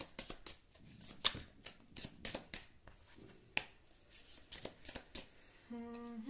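Tarot cards being shuffled by hand, a rapid series of crisp riffling flicks and snaps in uneven bursts close by, with a short tonal beep near the end.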